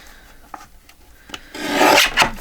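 Scissors trim paper for journal ephemera at a desk: a few soft, close clicks, then a louder, longer rasping cut near the end, with no talk.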